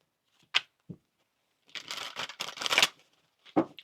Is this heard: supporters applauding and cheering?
no